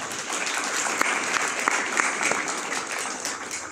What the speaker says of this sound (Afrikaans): Kom ons klap sommer nou vir almal van hulle hande